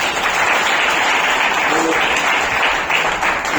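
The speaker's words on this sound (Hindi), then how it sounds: "उनके लिए जोरदार तालियां।" Steady, dense applause from a seated audience at an oratory award ceremony, with many hands clapping at once for a few seconds, even and fairly loud.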